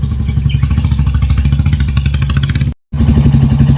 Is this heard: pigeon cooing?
no